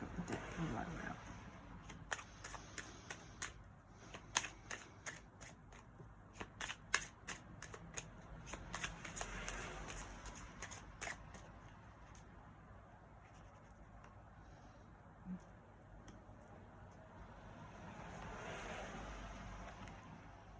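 A tarot card deck being shuffled, with quick crisp riffles and taps in bursts close up and softer handling later, quiet and intimate.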